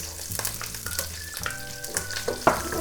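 Onions sizzle and fry in a hot pan with asafoetida, a crackling hiss broken by spatula scrapes and clinks, with one sharper clatter toward the end and no talk.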